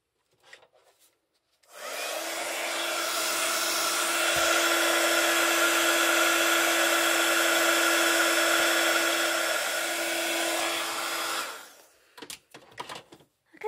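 A heat tool blows steadily for about ten seconds, melting gold embossing powder on a stamped pink-and-gold butterfly card, a loud continuous whirring hiss with a faint hum, starting and stopping abruptly with small handling clicks around it.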